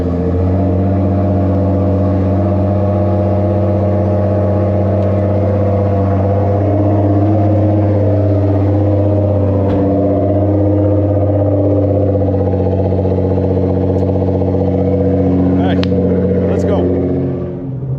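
A Nissan GTR Nismo that has been sitting a while idles with a steady, loud engine drone throughout, close by, with faint clatter and small revs near the end.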